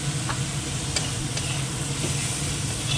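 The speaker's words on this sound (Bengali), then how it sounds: "কষিয়ে নিই মশলাটাকে।" Ground turmeric, coriander and cumin stirred and fried in a pan with egg, a steady close sizzle with scraping stirs throughout and no talk.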